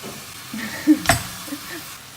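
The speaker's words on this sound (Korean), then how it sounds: "고기가 얼추 익었으니까 야채 집어넣고 또 볶아주는 거야." Chicken and vegetables stir-fried in oil in a pan give a soft sizzle, broken by a sharp metallic clank of a utensil against the pan near the middle and a few lighter scrapes.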